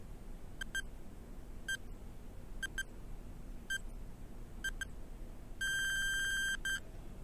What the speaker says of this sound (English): The timer starts now.